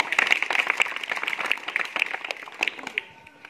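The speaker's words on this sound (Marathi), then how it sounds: "छान, टाळ्या वाजवा." Schoolchildren in a Zilla Parishad primary school classroom clap together in a busy, uneven burst of small-hand applause, close and lively at first, then thinning out toward the end.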